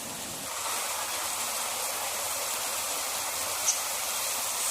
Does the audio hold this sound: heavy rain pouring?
yes